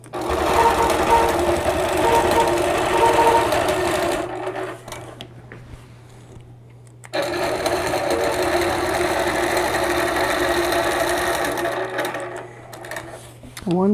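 A sewing machine stitches in the ditch around the inner square of a two-block quilt with a steady, rapid, loud needle clatter. It pauses for a few seconds, then resumes and runs until near the end.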